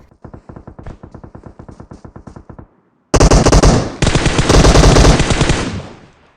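Video game battle gunfire: a steady burst of rapid automatic shots, then heavier, louder overlapping volleys of close-range fire, with no voices.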